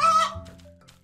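A single brief cluck from a chicken in the survival video game Wood 'n Stones, sharp at the start and fading quickly into quiet.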